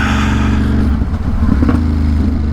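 A motorcycle with a quick shifter accelerates hard, its engine note stepping through quick upshifts with brief dips between gears. The loud, close drone comes from the rider's position during a morning commute, with wind rushing over it.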